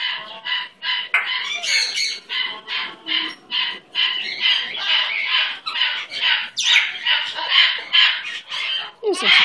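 A pet bird named Liberty squawks and chirps in a rapid, continuous series of sharp, bright calls, close and loud throughout.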